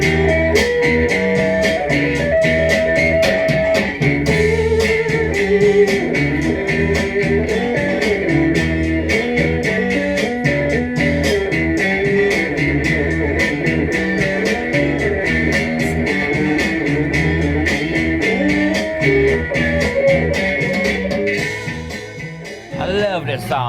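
Dense overdriven electric guitar drives a loud, full-band Malaysian garage rock record, with steady drums and bass beneath gritty distorted chords throughout.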